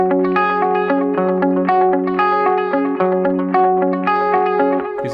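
Electric guitar through a tape delay pedal set to a dotted-eighth delay: a picked melodic line whose notes repeat in echoing, slightly warbling, wide-sounding repeats, played continuously and up close with no talking.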